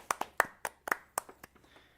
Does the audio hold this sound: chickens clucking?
no